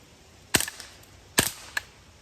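Two quiet .22 shots from a CMMG Banshee or M&P 15-22 rifle with standard velocity ammunition, each a sharp, dry crack with a brief tail, spaced about a second apart, followed by a faint click.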